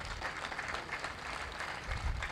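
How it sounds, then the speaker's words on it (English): A university graduation audience clapping during a standing ovation in Kampala, Uganda: dense, continuous applause from many hands, steady and fairly loud across the whole stretch. "Continue clapping and clap louder and harder."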